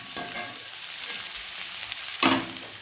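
Onion and ginger frying in a pan give a steady bright sizzle, with a louder burst of crackling near the end as the pieces are stirred.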